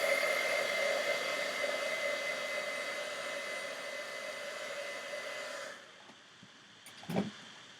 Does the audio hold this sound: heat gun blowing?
yes